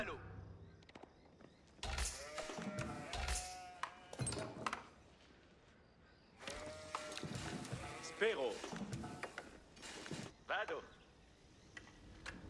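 Sheep bleating in the Age of Empires 4 real-time strategy game, a few short in-game animal calls heard faintly beneath someone talking over the gameplay.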